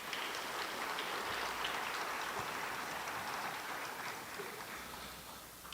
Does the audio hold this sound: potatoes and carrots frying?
no